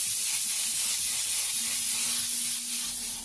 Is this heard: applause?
no